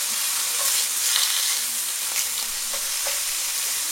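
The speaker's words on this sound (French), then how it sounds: "on fait revenir tous les morceaux correctement" Lamb neck pieces browning in a hot pan, a steady close sizzle broken by light scraping and stirring as the meat is moved around, with no voices.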